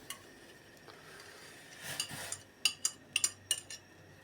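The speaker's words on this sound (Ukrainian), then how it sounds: "Все це діло ми ретельно перемішуємо до однородної маси." A spoon scrapes and clinks against a metal pot of milk mixture with butter in a series of light, rhythmic taps and stirs, close and fairly quiet.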